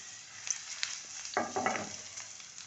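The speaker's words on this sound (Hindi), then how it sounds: "और इसको गर्म करके उसमें डालनी है आधी प्याज" Half a chopped onion hits hot oil for an aloo palak (spinach with potato) dish, starting as a steady low sizzle and then bursting into a louder crackling fry partway through, with no talking.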